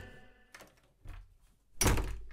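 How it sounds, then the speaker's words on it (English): A door slams once in an audio drama, a single loud, close thump with a sharp crack after a few softer knocks and shuffles, with no talking. "What have I told you about slamming doors?"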